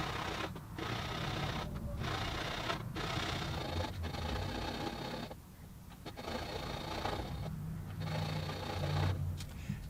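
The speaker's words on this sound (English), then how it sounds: "using a razor saw, I'm going to cut a series of kerfs in the portion of the back strip that I need to remove" A fine razor saw cuts a series of kerfs into the back strip of an acoustic guitar, the back plate masked with painter's tape; steady rasping back-and-forth strokes run continuously, close and fairly loud, with brief pauses between passes.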